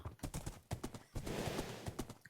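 Horse hooves clip-clop in the Minecraft Lord of the Rings mod as a rider moves on horseback, a steady rhythmic trotting that sounds close and fairly loud with no voices over it.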